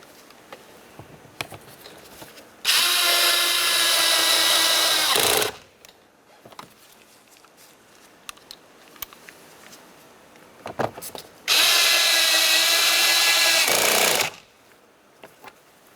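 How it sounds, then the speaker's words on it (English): A power tool drives the 10mm mounting bolts of a front power window motor on a 2007-2012 Nissan Versa, with two loud, steady whirring bursts of about three seconds each separated by quiet handling noises. "We'll continue on with our two 10mm headed mounting bolts, one here and one right there."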